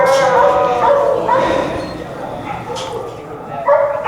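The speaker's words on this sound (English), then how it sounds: "you can hear all the dogs barking" Several dogs bark, yip and whimper at an animal shelter, close and loud, in overlapping bursts that rise and fall over a few seconds.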